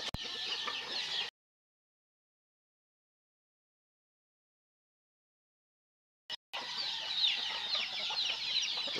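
Chickens and chicks on a farm cluck and peep in close, busy chatter, heard briefly at the start and again after a long silent gap.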